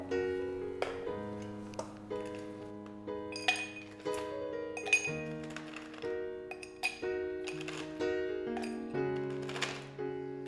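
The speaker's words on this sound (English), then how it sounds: "First, let's fill up a mixing glass like this with full of ice cubes." Ice cubes clatter and clink into a mixing glass for a Brandy Alexander cocktail, a steady run of bright, close glassy knocks with no talking.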